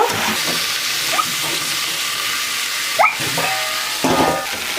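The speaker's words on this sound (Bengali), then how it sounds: "এবার সবজিগুলোকে হালকা ফ্রাই করে নেব হালকা আঁচে ঢাকনা লাগিয়েই ফ্রাইটা করব" Vegetables seasoned with salt, turmeric and chilli powder fry gently on low heat under a lid, giving a steady soft sizzle and hiss with a few brief clinks and stirring sounds.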